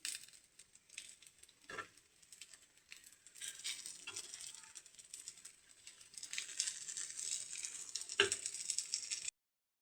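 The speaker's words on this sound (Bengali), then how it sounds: "ঘিটা দিয়ে আমি আবার একটু নাড়াচাড়া করে নেব।" Pea kochuri filling stirred with ghee in a pan: a soft, continuous scraping and faint sizzle with a few sharper spoon knocks, steady throughout.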